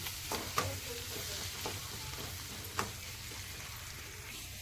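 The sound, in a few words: onions sautéing in a pan for bean curry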